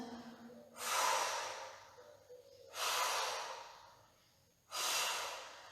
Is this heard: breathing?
yes